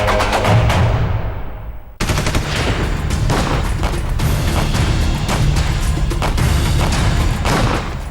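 Rapid, relentless gunfire from the San Bernardino, California shooting rattles in dense, loud bursts, with a brief break before the volley resumes and continues without letup.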